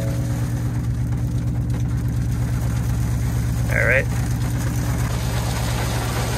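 A 2019 Ford Mustang GT engine runs at a steady idle in pouring rain, a low even throb close by with a faint chirp partway through; someone speaks briefly over it.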